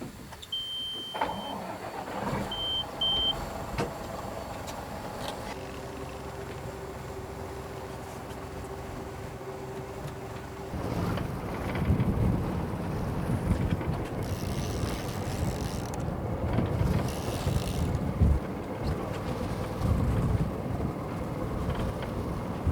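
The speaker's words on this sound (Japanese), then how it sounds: "エンジンかけて追っかけます。" A tuna fishing boat's engine starts and then runs steadily as the boat gets underway at sea. Mechanical clicks come first, then a constant low rumble builds and holds, with water and wind noise.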